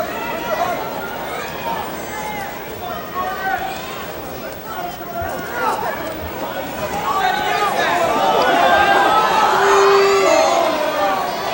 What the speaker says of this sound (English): Crowd yelling stalling, but I'm not sure who they're calling it on